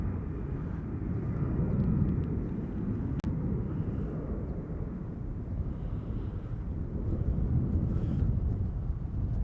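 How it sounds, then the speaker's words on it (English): Hawaiian Airlines jet taking off from Honolulu on a flight to Los Angeles, a distant, steady low roar of engines with wind buffeting the microphone, fairly faint and without talk. "this is Hawaiian Flight 10 heading off to LA with the Extra X."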